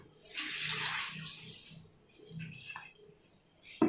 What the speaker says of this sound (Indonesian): Nanti ini kita mulai, kita tuangkan airnya.